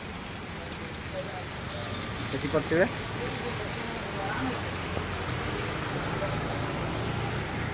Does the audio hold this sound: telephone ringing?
no